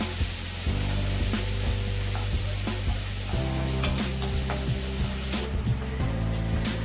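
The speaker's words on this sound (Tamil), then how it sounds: "வெங்காயத்தை சேர்ப்போம். வெங்காயம் நல்லா வதங்கட்டும்." Chopped onions sauté in hot oil for vegetable biryani, giving a steady, loud, close sizzle with occasional stirring scrapes and a low background hum, and no talking.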